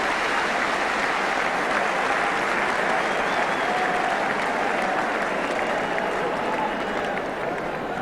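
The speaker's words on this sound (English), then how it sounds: "Pat Jennings looks surprised at the applause." A packed football stadium crowd at an Arsenal versus Ipswich league match in 1978–79 applauds a save by goalkeeper Pat Jennings, a dense, steady roar of clapping that stays loud throughout.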